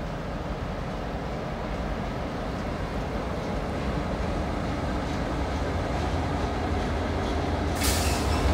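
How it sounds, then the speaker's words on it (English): A long CSX freight train of gondola cars approaches, a low steady rumble and rolling hiss that builds slightly, with a sharp bright burst near the end. "Here comes the train, I hear it."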